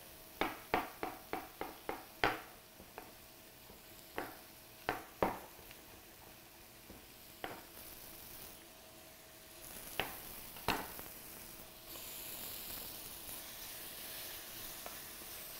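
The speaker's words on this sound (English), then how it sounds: "Now we're going to add the scallops" Scallops cooking in a pan with mushrooms, producing a steady soft sizzle with a run of sharp spits and pops, quick at first and then spacing out, fairly quiet with no talking.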